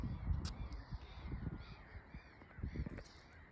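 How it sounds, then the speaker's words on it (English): Crows cawing outdoors in Kuopio, Finland, with several faint, harsh calls repeating over quiet open-air ambience. "You can hear the sound of birds."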